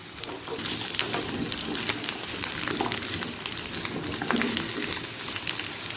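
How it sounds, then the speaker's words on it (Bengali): Pointed gourd and potato pieces fry in hot oil over a high flame, a dense even crackling sizzle with scattered pops, close and steady for the whole stretch. "পটল ভাজতে গিয়েছি"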